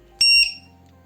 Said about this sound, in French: un indicateur de charge qui bip avant que la batterie soit assez déchargée pour pouvoir s'abîmer